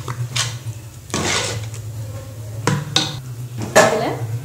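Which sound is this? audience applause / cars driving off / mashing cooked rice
mashing cooked rice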